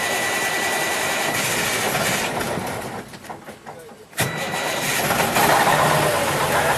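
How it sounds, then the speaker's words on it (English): Class A truck engine cranks and catches after a short dip, then settles into a loud, steady rumbling idle close by. "We're going to go ahead and start the vehicle."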